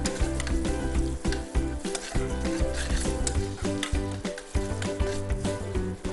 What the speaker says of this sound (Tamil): இந்த மாதிரி ஆயில் வந்து சும்மா வெது வெதுன்னு இருக்கிற சூட்டில் அப்படியே போட்டு பைய அதை வந்து ரோஸ்ட் பண்ணி எடுக்கணும் முந்திரி பருப்புன்னு